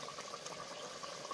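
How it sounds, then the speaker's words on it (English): Carrot jollof rice sauce bubbling in a pot, a steady soft simmer of small popping bubbles with a brief sharp clatter near the end. "you can see that the sauce is bubbling"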